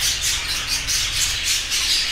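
Continuous harsh squawking and chattering from a flock of budgerigars at a breeding facility, dense and steady with rhythmic pulses, fairly loud and close.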